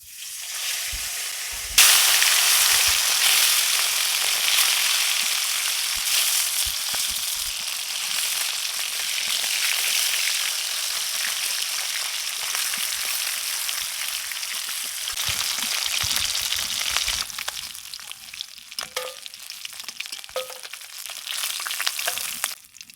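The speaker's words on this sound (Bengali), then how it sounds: "তেল গরম হয়ে গেছে, এবার মাছ দিয়ে দেব।" Fish rubbed with turmeric and salt hits hot oil in a wok with a sudden loud burst of sizzling, then a dense, steady, close crackle and hiss that thins into scattered pops toward the end.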